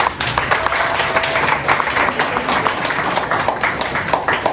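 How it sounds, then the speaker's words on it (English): A student audience on a Ghanaian journalism campus claps at a political gathering, dense uneven clapping with crowd noise sustained throughout, fairly loud and close. "a round of applause"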